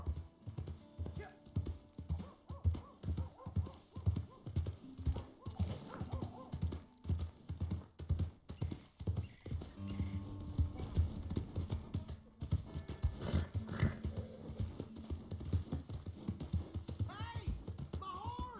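Horse hooves clip-clop in steady rhythmic beats in the Red Dead video game, fairly close and continuous, with game sounds and occasional voices around them.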